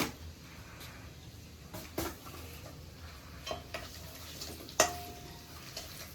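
Shrimp malai curry ingredients fry quietly in a pan, with a soft sizzle under sparse clinks and taps of a utensil against the pan, one sharper knock standing out.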